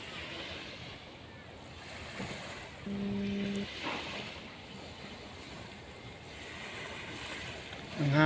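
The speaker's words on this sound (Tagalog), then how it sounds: "Sarap sa tenga yung hampas ng dagat." Steady roar of sea surf washing in, broad and continuous with wind noise, a brief tonal hum in the middle.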